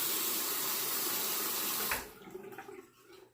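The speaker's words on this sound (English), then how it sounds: "I'm gonna wet the razor and commence to shaving." A bathroom tap runs in a steady hiss for about two seconds to wet a King C. Gillette razor, then cuts off, leaving faint drips and small clinks.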